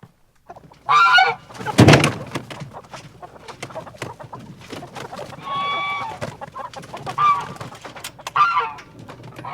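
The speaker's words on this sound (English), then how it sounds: "I got to catch this chicken first." A hen being caught among a flock of fifty squawks and clucks in loud, close bursts separated by quieter rustling and lower clucking.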